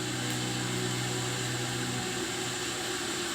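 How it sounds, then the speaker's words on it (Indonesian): Water coming to the boil in a pot on a wood-fired pawon stove gives a steady, close hiss and low rumble that holds evenly throughout, with no talk. "Jadi kalau sudah ada bunyi seperti ini menandakan kalau airnya sudah mulai mendidih ya"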